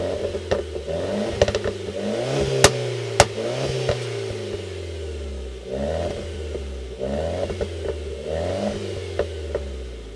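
A Renault Clio 4 RS in RS sport mode with open exhaust valves revs up repeatedly, its engine note climbing and falling in several surges, with sharp pops and crackles between pulls and no talking.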